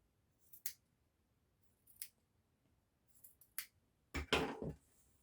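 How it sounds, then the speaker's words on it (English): Small scissors clip into the curved seam allowance of a fabric top, making sparse, crisp snips spaced a second or so apart, with a quicker cluster of cuts near the end, close and otherwise quiet. "So the little scissors are perfect for this. So this is called clipping the curves."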